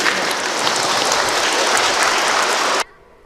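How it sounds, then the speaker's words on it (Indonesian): Wedding guests burst into loud, dense clapping that fills the room for nearly three seconds before cutting off abruptly into quiet. "Mari kita beri ucapan selamat kepada mereka dengan tepuk tangan."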